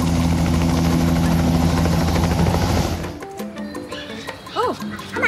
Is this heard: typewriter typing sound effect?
no